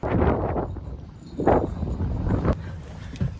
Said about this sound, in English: Oh, it is so windy out there.